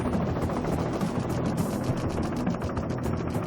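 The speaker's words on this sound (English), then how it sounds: "One of a helicopter's greatest handicaps during a rescue operation like Desert One is the noise made by its rotors." Helicopter rotors beat steadily in a dense, continuous chop, loud and close throughout with no pauses and no voices.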